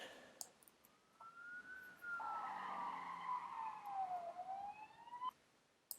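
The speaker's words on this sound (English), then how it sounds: "Loads of atmospheric sounds in now. We've got a car screeching," Layered movie-style sound effects of a car screeching and police sirens: a long, wavering tyre squeal sweeps up and down over a faint wailing siren, with a few sharp clicks, mixed quietly and fairly distant.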